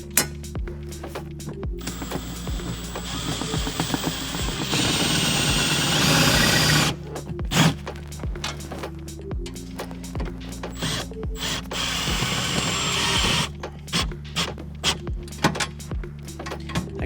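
Power driver tightening screws into a vault panel inside a Jeep XJ, a loud mechanical whirring buzz in several bursts of a few seconds each, with ratcheting clicks and short pauses between runs.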